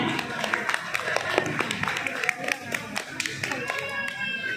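Applause from a talk-show audience, a dense crackle of many hands clapping with a crowd murmur underneath, steady and moderately loud.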